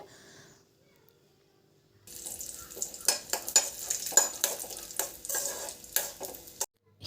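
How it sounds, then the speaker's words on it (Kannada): Almonds and raisins fry in Nandini ghee in a pan. After a quiet start, a steady close sizzle rises, broken by repeated clinks and scrapes of a spoon stirring against the metal. "ಈಗ ಈ ಬಾದಾಮ್ ದ್ರಾಕ್ಷಿನ ಒಂದು ಮಿನಿಟ್ ಫ್ರೈ ಮಾಡಿಕೊಂಡ್ರೆ ಸಾಕು"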